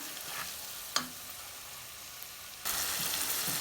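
Browned onion with ginger, garlic and spices frying in a pan for a dried fish curry, a soft sizzle broken by one sharp clank of a stirring utensil, then a louder, fuller hiss.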